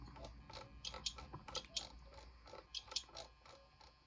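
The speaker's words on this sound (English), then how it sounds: "Tighten this bolt right here on the top." A bolt on top of a car's carburetor is tightened with an 8mm spanner, giving a run of about ten crisp, close mechanical clicks and creaks in a steady ratcheting rhythm, with no talking.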